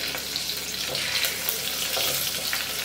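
Crushed garlic fries in hot oil in a pan, making a close, steady crackling sizzle throughout with no voices.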